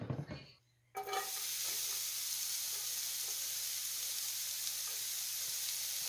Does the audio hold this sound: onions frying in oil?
yes